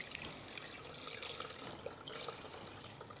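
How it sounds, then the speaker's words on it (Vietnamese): Water is poured into a cooking pot in a home kitchen before fish maw is boiled, giving a faint, steady splashing hiss with a couple of brief high squeaks. "Cho một ít nước vào nồi."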